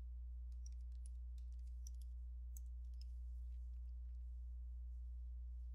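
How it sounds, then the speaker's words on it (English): Quiet, scattered clicks of typing on a computer keyboard, a few irregular keystrokes over a steady low electrical hum, with no talking. "And I'm going to type"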